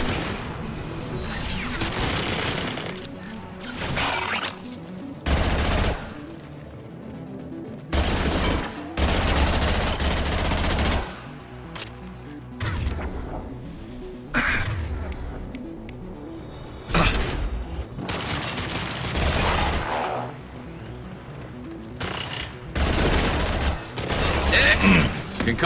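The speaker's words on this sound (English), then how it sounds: "Taking heavy fire!" Heavy gunfire erupts in a Mass Effect 2 firefight on Haestrom, dense bursts of automatic fire and loud bangs crowding the whole stretch, with brief lulls between volleys and a voice occasionally heard in the mix.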